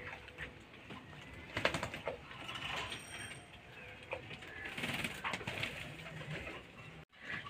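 Pet pigeons, adults and young, coo softly after bathing in a water tray on a hot day, with faint rustling and pecking at soil, quiet and close.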